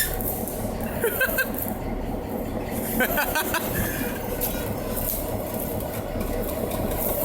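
A locomotive on the WW Railroad's C&M line rumbles steadily as it reverses, a low continuous engine drone with faint clanks from the cars, heard from nearby under light outdoor noise.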